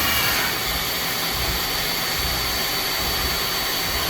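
A new 2018 Southwestern Industries Trak LPM vertical machining center runs its spindle at speed with a loud, steady high-pitched whine and a broad whirring hiss, continuous and close, with no voices.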